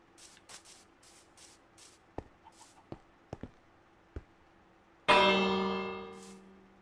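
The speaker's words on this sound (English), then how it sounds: "Ring the bell." A village bell in Minecraft is struck once and rings out loud and bright, its tone decaying slowly after a run of soft clicks and taps.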